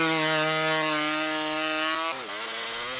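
A logging-competition hot saw, a chainsaw fitted with a two-stroke motorcycle engine and expansion chamber, screams at full revs with a steady high-pitched whine, then drops in pitch as it loads up near the end.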